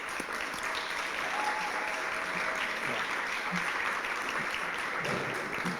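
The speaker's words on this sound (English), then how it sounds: "let's just give her a big round of applause" An audience at a service dog graduation claps steadily, producing a dense, even wash of applause that continues throughout at moderate volume, with no voices over it.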